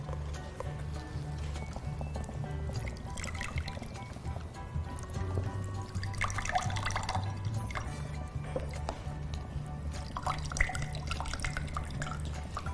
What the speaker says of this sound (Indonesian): Kak Dona akan menuang air kelapa ke 4 gelas ini sama rata.